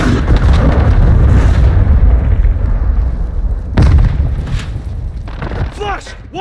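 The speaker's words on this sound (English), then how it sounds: "Friendly cruise missile approaching target." Cruise missile blast in Call of Duty: Modern Warfare II, a loud booming impact with rumbling roar that decays over seconds, followed by another burst and scattered gunfire, with game voice callouts.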